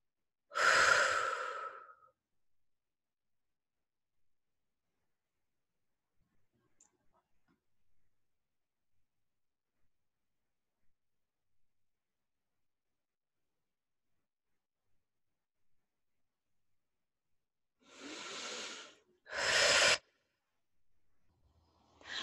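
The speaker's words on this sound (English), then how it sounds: "keep deep breathing throughout our session" Slow, deep human breaths: one long breath at the start, a long silence, then two more close together near the end, each soft and airy and alone without talk.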